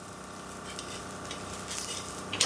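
Adai batter frying on a low simmer in a pan, a soft, even, continuous sizzle heard up close with no voices.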